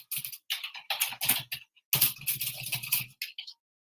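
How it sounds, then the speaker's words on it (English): Soft, quick keystrokes on a computer keyboard come in uneven bursts with short pauses, then a few final taps, all quiet and close with no talking. "So I'll be simply typing return."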